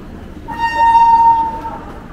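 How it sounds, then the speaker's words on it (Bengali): A train blows one long, loud horn blast over a low rolling rumble of rail cars as it sets off from Balurghat, West Bengal. "এইমাত্র ট্রেন ছাড়লো 7:53, 3 মিনিট লেট স্টার্ট।"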